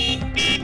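A loud, oversized aftermarket horn fitted to a motorcycle such as a Bullet sounds in two sustained blasts, steady and close, with a short dip between them.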